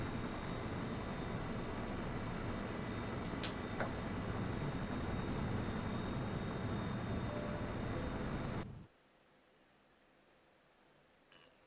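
Airplane coming in to land on an aircraft carrier in the X-Camera flight simulator, a loud steady engine roar with a faint high whine that cuts off abruptly near the end, leaving near silence.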